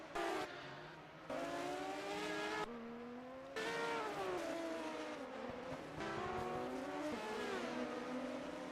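Race cars in a 1980 Procar round at Nürnberg in a racing game, engines revving and shifting up and down as several cars pass and accelerate, fairly close and continuous, with faint tire squeal and no talk.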